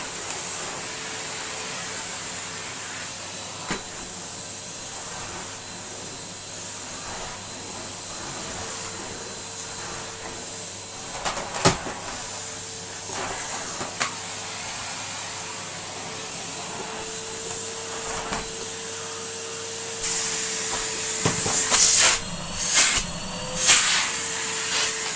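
A Numatic Henry HVR160 eco vacuum cleaner runs with a steady, loud airy hiss and hum after its bleed valve is opened, with occasional clicks and bumps and brief louder rushes near the end, no talk.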